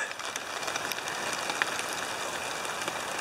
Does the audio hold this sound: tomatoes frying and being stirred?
no